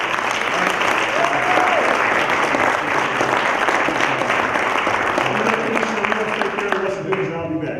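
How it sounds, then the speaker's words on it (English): An audience at a school event gives another round of applause for a city schools commissioner, dense sustained clapping and crowd noise throughout, with some voices emerging near the end. "Can we give him another round of applause?"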